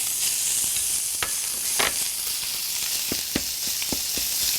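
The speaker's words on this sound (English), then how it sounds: "we are adding ground meat." Ground meat hits a pan of browning onions in olive oil, giving a steady, broad sizzle with a few sharp spoon-scrape and stirring clicks scattered over it, close and fairly loud, with no talking.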